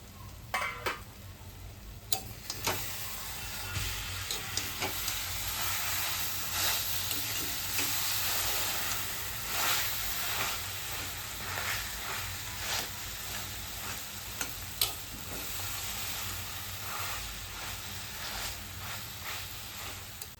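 Green chilies coated in gram-flour batter cook in a pan, giving a continuous close hissing sizzle with faint pops and occasional light clicks and scrapes, and no voices.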